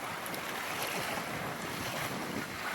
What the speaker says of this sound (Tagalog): Pasensya na po kayo, medyo mahangin po.